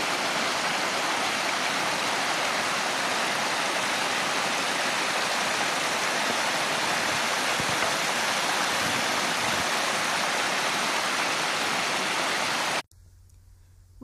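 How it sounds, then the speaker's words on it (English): A small waterfall on a December hike on Elk Mountain, British Columbia: a steady, loud rush of falling water, broad and unbroken, that cuts off abruptly near the end. "There were quite a few of these smaller waterfalls"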